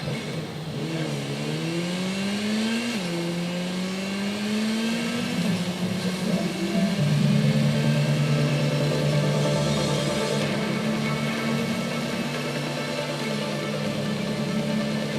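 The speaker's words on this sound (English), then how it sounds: "let's summon up our bike and go and take a little ride" A motorbike engine in Gotham Knights drones steadily throughout, its pitch climbing through several revving shifts before settling into a sustained, even cruising hum.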